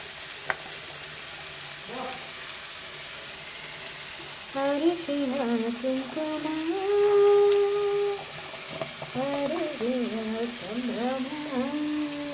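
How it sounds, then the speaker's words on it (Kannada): Potato pieces frying in oil in a pan, a steady close sizzle with occasional stirring, while a voice talks over much of it. "ಆಲೂಗಡ್ಡೆ ಬೇಯಬೇಕು ಈ ಫ್ರೈಯಲ್ಲೇ, ನೀಟಾಗಿ ಎಣ್ಣೆದಲ್ಲೇ ಆಲೂಗಡ್ಡೆ ಫ್ರೈ ಆಗಬೇಕು"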